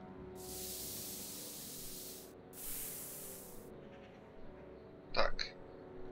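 A spray can painting a skateboard in the Back to the Future video game gives two long hissing bursts with a short gap between them, loud and close, followed by a couple of quick clicks.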